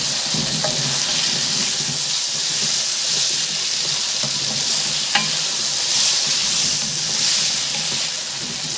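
Potatoes with cumin frying in a pan, a steady loud sizzle and hiss throughout with occasional faint clinks of stirring, no talking.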